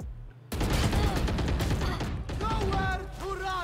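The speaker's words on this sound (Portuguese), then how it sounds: "Nossa, vários tiros." Dense, loud bursts of gunfire from the Valorant shooter game, starting abruptly after a brief quiet moment and rattling continuously, with a voice partly over the later shots.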